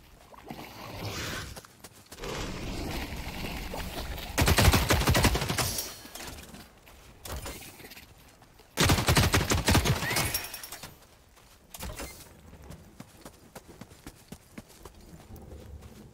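Shooting in a multiplayer video game, with dense rapid bursts of gunfire coming in several long loud volleys separated by quieter stretches of game ambience.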